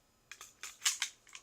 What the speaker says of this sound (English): But mag drops out fairly easy,